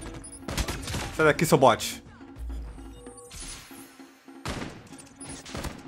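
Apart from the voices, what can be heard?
gunfire from the video game Call of Duty Mobile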